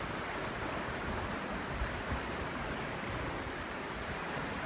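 Steady wind and ocean surf roll on continuously at a moderate level on a windy day at sea, a broad constant rush with no voices.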